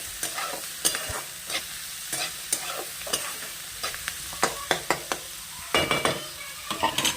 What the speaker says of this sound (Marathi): कांद्याला लालसर भाजून घ्यायचं आहे